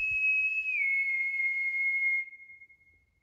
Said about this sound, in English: Do the whistle again.